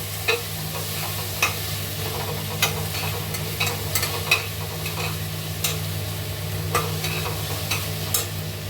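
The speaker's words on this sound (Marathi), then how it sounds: "कांदा परतलाय आता. त्यातच हा टमाटा घालते." Onion and tomato sizzle steadily in a hot pan while a spoon stirs them, with regular scraping clicks over a constant frying hiss, close and clear with no talking.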